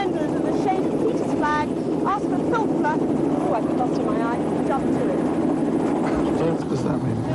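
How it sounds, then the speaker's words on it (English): A helicopter's engine and rotor roar steadily and loudly throughout, a constant heavy drone with people talking over it, during a 1984 treasure-hunt game show filmed in Malta. "I think you better get into the helicopter ready to take off."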